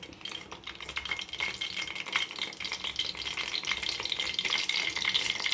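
Coconut oil splatters and crackles in a hot pan, a steady dense sizzle with quick sharp pops and some stirring scrapes throughout, close and fairly loud with no talking.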